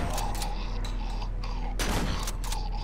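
Gunfire in the Cry of Fear horror video game, a rapid cluster of sharp shots at the start, a pause, then another burst of several loud shots over a steady low ambient drone.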